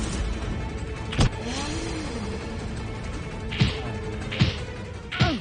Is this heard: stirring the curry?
no